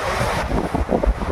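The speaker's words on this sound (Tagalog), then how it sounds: "Napakalakas ng hangin" Strong wind buffets the microphone on a bridge over a river, a loud rough rumble that gusts unevenly for a short moment with no talk.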